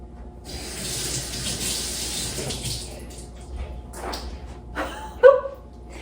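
Water runs steadily from a kitchen sink tap while Italian macaroons are being made, a continuous close hiss that tapers off toward the end, followed by a brief clink.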